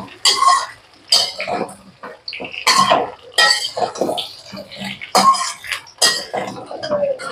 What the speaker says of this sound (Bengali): এখানে আলুটাকে এরকমভাবে ভালো করে কষিয়ে নেবো আর কি, ভাজবো।